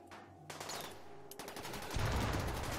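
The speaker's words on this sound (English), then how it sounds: "But if he's shooting his Inferno Cannon here, that's just fine." An Inferno Cannon fires in the RimWorld video game: a few sharp gunfire bursts followed by a denser rapid volley that grows louder and continues to the end.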